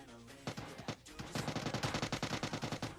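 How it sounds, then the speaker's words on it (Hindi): Rapid bursts of automatic gunfire from an enemy player in the PUBG Lite video game, loud and close, with a few separate shots followed by a steady, evenly spaced rattling volley. "सामने एक और बंदा होता है जो मुझे गन शॉट देने की ट्राई करता है"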